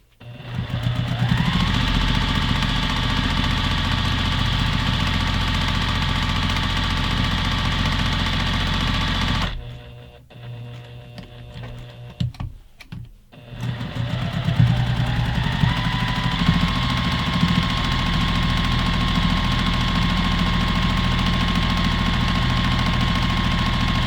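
A sewing machine stitches a 1/8-inch seam around a selvage-fabric zipper pouch, running as a steady mechanical whirr that stops for a few seconds midway with some clicks, then starts up again and runs evenly to the end.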